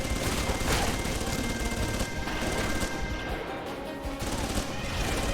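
Gunfire in the PC video game Alpha Protocol, dense bursts of shots and crashing impacts in a loud continuous barrage with no talk over it.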